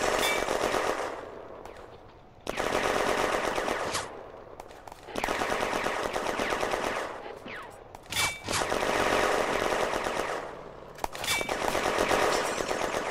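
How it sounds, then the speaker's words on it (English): Sustained bursts of machine gun fire from a machine gun nest during a June 1940 firefight at Villers-Bocage, loud and rapid, in several long rattling volleys separated by brief pauses, with no voices. "The French are taking fire from the east. Machine gun nest."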